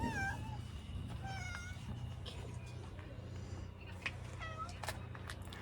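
A cat meows several times in a room full of Spirit Halloween animatronic props, short rising calls standing out over a steady low hum of running machinery, with faint background voices.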